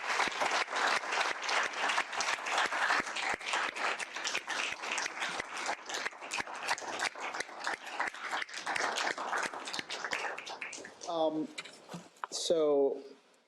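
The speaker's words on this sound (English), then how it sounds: "Let's give a round of applause." Dense applause from a lunch-event audience fills the room steadily for about eleven seconds, then thins into a few scattered claps as it fades.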